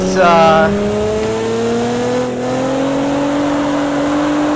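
A Nissan GT-R Nismo is drifted in a racing video game. Its engine drones loud and steady, rising gradually in pitch, with a brief squealing note at the start.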